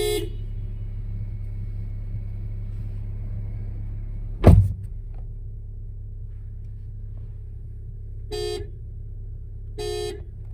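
Upgraded twin horns on a 2022 Honda Civic Si sound over a steady idling engine rumble, first a long blast, then a sharp thump, then two short, clear honks near the end, all close by.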